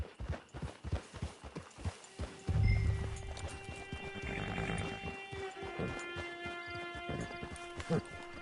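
Horse hooves clip-clop in a steady, quick rhythm in the video game Red Dead Redemption 2, joined partway through by a horse's whinny and snorting, with a soft ambient background.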